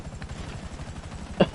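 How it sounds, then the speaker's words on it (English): Helicopter in GTA V Online passing close by, a steady low rotor chop throughout with a brief sharp burst near the end. "Oh, that fucking helicopter almost hit me."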